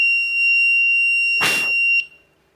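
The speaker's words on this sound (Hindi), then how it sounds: "तो इस तरीके से ये फायर अलार्म वर्क करता है।" A homemade fire alarm built on an Arduino beeps a steady high-pitched electronic tone, loud and close. A brief burst of noise interrupts it and then it cuts off, with no talking.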